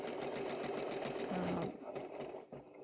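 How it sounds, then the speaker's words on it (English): A sewing machine quilting straight diagonal lines across a block, with a fast, steady mechanical stitching rattle that runs continuously and eases slightly toward the end. "I'm actually going to run all the way down to the bottom corner so that we can start quilting this way across the block"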